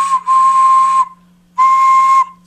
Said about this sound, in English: we're going to start with the whistle and make sure that it works